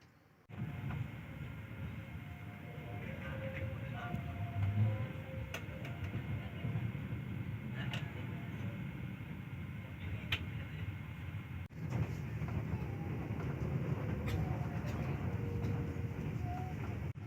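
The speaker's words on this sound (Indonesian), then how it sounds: "KA Jayabaya diberangkatkan kembali dari Stasiun Waru menuju ke Stasiun Sidoarjo." KA Jayabaya passenger train pulling out of Waru station toward Sidoarjo, heard from inside as a continuous low rumble with rhythmic rail clicks and faint squeaks throughout.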